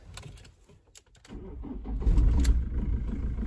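A car engine cranks with a few short clicks and whirs, then catches and settles into a steady, close idle with a low rumble, no voices present.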